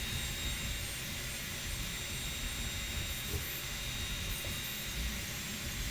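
A Voron V2.4 3D printer printing PLA, its cooling fans and blower motor producing a steady, even whir and hiss that runs unbroken throughout at moderate level with no talking.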